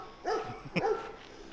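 A dog barks a couple of times on a neighborhood street in Bucerías, the yelping barks fairly close and brief over quiet background.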